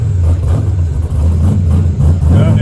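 A Ford Mustang engine running at a steady idle with a deep, loud, continuous rumble and slight rises in revs, recorded close up.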